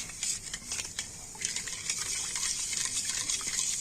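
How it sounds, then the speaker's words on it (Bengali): A spoon stirring sugar into hot milk in a pot while making tea, soft scraping and liquid swirling with light clinks, close and fairly quiet throughout. "তো এইভাবে একটু নাড়াচাড়া করে চিনিটাকে গলিয়ে নেবো"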